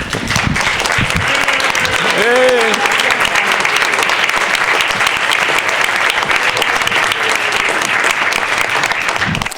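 A room rises to applaud at a Metro Council meeting, loud sustained clapping filling the chamber, with a voice briefly speaking over it early on.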